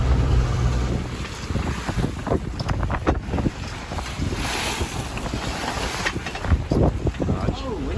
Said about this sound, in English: Getting out those standing waves over in the pass.